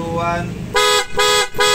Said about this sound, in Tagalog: Tapos magbubusina ulit tayo.